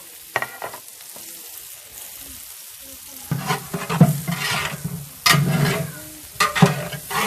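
Six sliced onions sauté in sunflower oil for a large pot of beef kabsa. A close, loud sizzle is broken by repeated scraping stirs and spatula knocks that grow heavier midway, and no one speaks.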